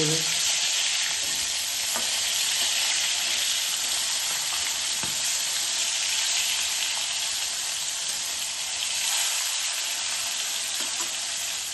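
Pieces of ritha fish sizzle continuously in mustard oil in a kadai, a dense, even hiss close by with faint scraping of stirring and no talk.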